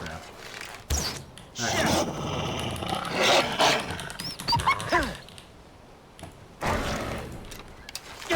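A wolf in Far Cry 4 snarls and growls in rough repeated bursts amid game noise, with someone talking over it.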